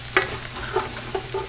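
Cubed butternut squash and onions fry in a hot pan for pasta with brown butter sage, giving a close sizzle with a few soft stirring knocks over a short stretch, no talking.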